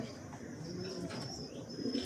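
Fantail pigeons and their young cooing softly in a loft, low murmuring coos building toward a slightly louder burst near the end, with faint wing shuffling.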